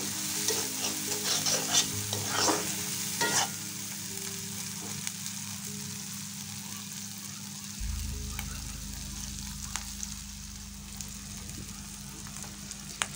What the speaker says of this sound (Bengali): এরপর দিয়ে দিলাম কাঁচামরিচ কুচিগুলো দিয়ে দিলাম, হালকা ভেজে নেব।